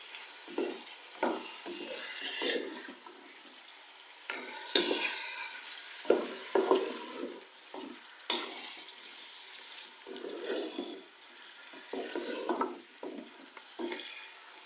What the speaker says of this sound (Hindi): मटन को उस वक्त तक फ्राई करेंगे जब तक कि इसका कलर पिंक से वाइट ना हो जाए।